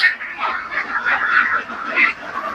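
Itik ducks on a Philippine duck farm quacking in a dense, continuous chorus of nasal calls, loud and close, filling the whole stretch.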